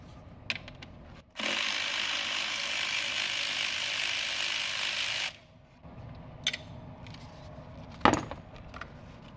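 A ratchet wrench loosens a 10mm bolt holding a car's intercooler charge pipe to the throttle body: a rapid, steady clicking run of about four seconds, followed by a few faint clinks and a sharper knock.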